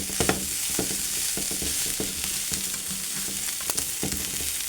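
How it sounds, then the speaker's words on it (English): A spoon stirs browned hamburger meat in a sizzling pan, waiting for the cheese to go in, with scraping strokes repeated steadily over a constant close frying hiss and no talking. "Give this a little quick mix before we add the cheese."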